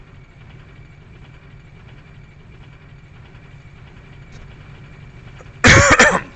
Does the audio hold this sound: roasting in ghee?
no